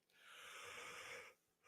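A single soft, breathy yawn, rising and drawn out for about a second before trailing off, quiet and close.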